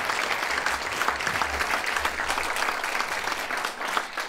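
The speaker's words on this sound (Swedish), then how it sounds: "En applåd." A crowd applauds at a charity gala stage show, dense steady clapping that fills the space for several seconds without letting up.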